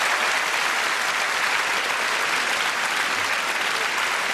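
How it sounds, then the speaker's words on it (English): Broad, even applause from a comedy roadshow audience in Birmingham, a continuous wash of many hands clapping at close range with no talking over it. "A lovely round of applause."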